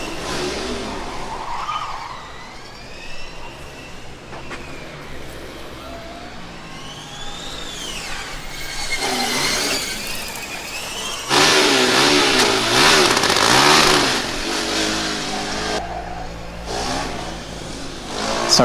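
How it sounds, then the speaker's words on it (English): A combustion Formula Student race car engine revs repeatedly at an autocross event, pitch sweeping up and down, growing louder and harsher in sustained bursts, close by with no talking. "Was really revving it a lot, just eager to get out on track"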